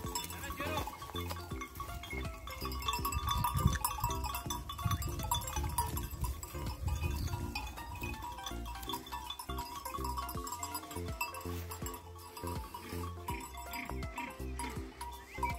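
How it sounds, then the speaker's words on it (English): Goats and sheep in a Turkish village near Bodrum, with occasional bleats and animal bustle mixed into a busy outdoor scene, and people talking now and then over the continuous background. "Goats and sheep."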